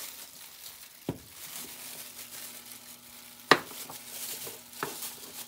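Plastic gloves crinkle and rustle while soap is cut by hand, with three sharper crackling bursts standing out over a quiet, steady low hum.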